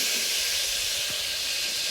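Pressure cooker hissing steam while cooking in a home kitchen, a steady loud hiss that fills the moment with no talk over it.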